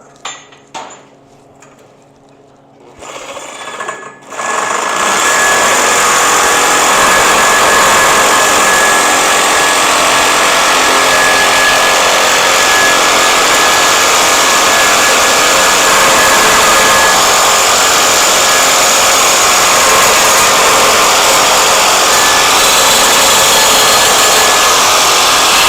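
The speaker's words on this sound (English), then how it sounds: "I'm just going to put the Sawzall right on there and whack it off" A Sawzall reciprocating saw cuts through the steel roll bar of a buggy under construction. After a few quiet seconds it starts abruptly, then gives a loud, steady, harsh grinding and rattling that runs close and continuous to the end.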